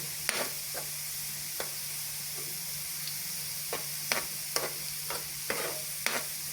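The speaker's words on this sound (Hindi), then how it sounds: "इसको हल्के आंच में ज़रा भूनते हैं। प्याज भी साथ ब्राउन हो जाएगा" Onions brown in oil over a low flame with a few round chillies, a soft steady sizzle broken by repeated sharp scrapes and clacks of a spoon stirring the pan, close and with no talk.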